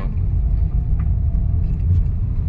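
Trucks approaching on a road give a steady, fairly loud low engine rumble that holds throughout with no speech.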